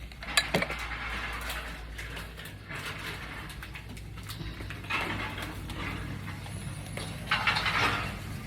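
Dishes being handled in a kitchen sink make repeated clinks and clatters of plates, pots and cutlery, close by and irregular, over a steady low background hum.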